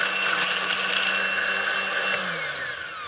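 Blender whirring as it mixes a pear daiquiri made with pear liqueur, a loud steady motor drone with a faint drop in pitch near the end, no talk over it.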